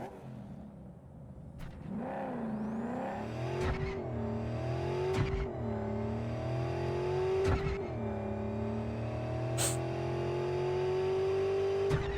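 A car in Cyberpunk 2077 accelerates with its engine revving up through several gear changes, a loud, continuous motor drone with rising pitch sweeps and no one speaking.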